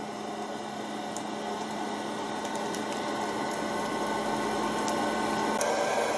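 An electric popcorn maker whirs with a steady motor and fan hum, with faint pops and ticks of kernels starting to burst.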